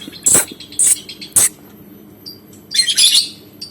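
A three-colour lovebird kept as a pet chirps in several bright, shrill bursts spaced across a few seconds, close and loud, with a busier cluster of tweets toward the end.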